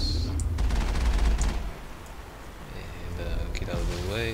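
Rapid gunfire crackles in Mass Effect on Virmire, a dense burst of shots early on that fades while a person talks over the game.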